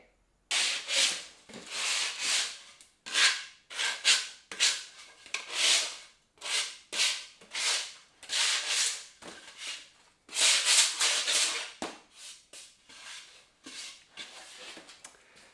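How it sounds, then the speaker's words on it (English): Timber is hand-sanded with 80 grit sandpaper, rhythmic rasping strokes in bursts of one to two seconds, close and fairly loud, repeated steadily with short pauses between them. "Just hitting these with a bit of 80 grit sandpaper"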